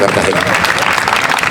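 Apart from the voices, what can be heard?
audience applause for Cartagena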